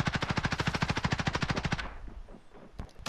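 Rapid automatic gunfire in a video game, a fast steady burst of about two dozen shots lasting nearly two seconds, then trailing off into quieter scattered noise and a faint late shot.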